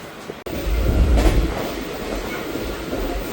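A Kalka–Ambala Cantt passenger train rumbles past close by, a deep steady roar with rattling wheels that swells early on and then holds at a constant loud drone.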